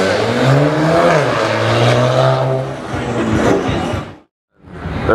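Engine of a Paris Blue McLaren 720 on a Gumball 2022 rally stop, a loud steady drone with rising and falling harmonic tones for about four seconds, cutting to silence, then returning briefly.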